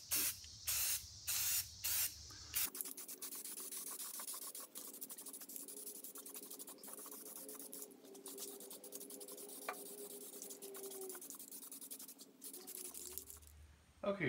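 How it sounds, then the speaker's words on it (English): An aerosol can of paint hisses in a long continuous spray after a few short bursts, steady and close, coating a drill press head, ending with a brief clatter. "I'm gonna go ahead and spray just mostly the top area here with another coat"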